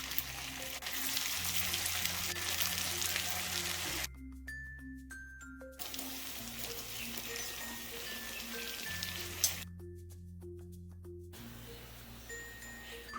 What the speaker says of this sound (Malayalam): ബാക്കിയിരിക്കുന്ന നമുക്കിതുപോലെ തന്നെ ഇട്ട് ഫ്രൈ ചെയ്തെടുക്കാം.